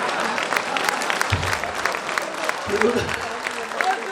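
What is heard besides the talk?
audience applause at a poetry recital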